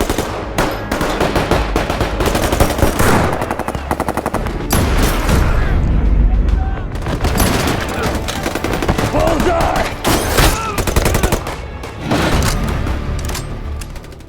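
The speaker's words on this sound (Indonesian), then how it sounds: "Satu persatu dari para polisi berhasil ditembak oleh ketiga perampok yang masih tersisa." Robbers and police trade fire in an action film shootout, with dense, loud bursts of automatic gunfire and booming shots rattling almost without pause throughout.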